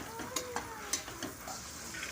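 Soaked soya chunks and tomatoes sautéing in a pan, a faint sizzle with soft stirring scrapes and light clinks, quiet and close.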